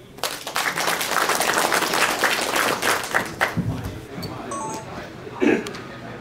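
An audience at a formal event gives a burst of dense applause to welcome a speaker; the clapping holds for a few seconds, then tapers off into scattered claps and faint voices.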